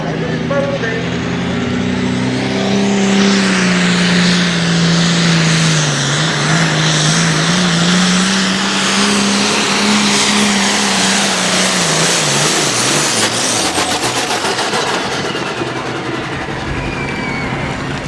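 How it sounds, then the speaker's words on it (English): Tractor pulling engine with a turbo revving hard at a pulling event, a loud sustained roar with rising and falling pitch and a whistling turbo whine, close and continuous throughout. "a little bit more RPM, more fuel is coming in, air is going through the turbo, bringing up the RPM"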